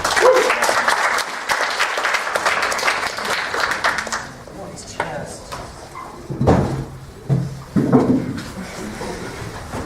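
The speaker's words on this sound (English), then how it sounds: "Give him a round of applause, please." Audience applause for a stage comedy cast, brisk and crowded for about four seconds, then giving way to scattered thumps, knocks and shuffling noises in a quieter room.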